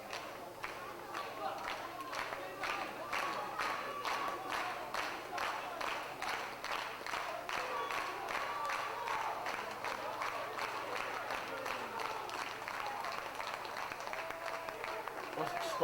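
Steady crowd applause and clapping fill a wrestling show hall for the whole stretch, dense and continuous, with faint voices mixed underneath.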